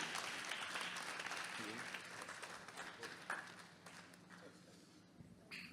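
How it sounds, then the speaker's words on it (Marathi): Audience applause at a Guru Purnima poster launch event for a film, a dense wash of clapping that carries steadily and gradually thins toward the end, with faint voices mixed in. "टाळ्या जरा जोरदार आल्या पाहिजे"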